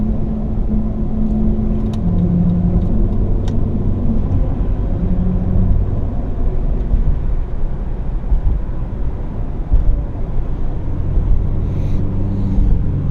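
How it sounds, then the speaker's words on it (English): A 4x4 driving over a bridge's steel grating makes a steady, loud, low rumbling drone with a humming tire tone that holds throughout. "This grating makes the vehicle kind of wiggle around."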